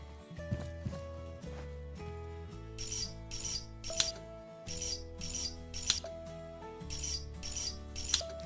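A ratchet wrench clicks rapidly in short, rhythmic bursts during a car repair, sounding close and crisp, with brief pauses between strokes.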